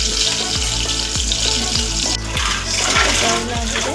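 Garlic frying in a pan, browning lightly before liver goes in, gives a loud, steady sizzle with crackle throughout and a few soft stirring scrapes.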